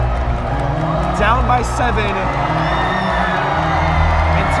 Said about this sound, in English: And Titan Nation on its feet. This place is absolutely rocking.